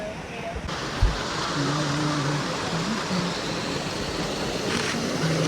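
Steady broadband rush of a waterfall in Mexico, water pouring continuously at moderate loudness with a faint low thump early on, a constant wash filling the whole span.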